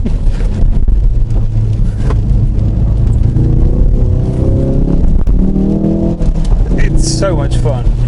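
A Ford Focus RS on Michelin Cup 2 tyres power-slides through standing water on a wet track. Its engine rumbles and revs continuously up close, rising and falling under steady talking from a man.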